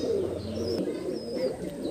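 A pigeon coos close by in a low, continuous series of soft, throaty calls, with no talking.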